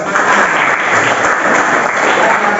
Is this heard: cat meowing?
no